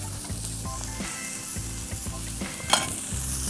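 Steady loud sizzle of potatoes searing on a flat griddle, close and continuous, with faint scraping and metallic clicks breaking through and a brief sharp clatter near the end.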